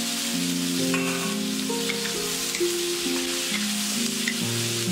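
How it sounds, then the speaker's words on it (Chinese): Chicken pieces stir-frying in hot oil give a continuous bright sizzle that runs under background music throughout. "油热后放入鸡块翻炒。"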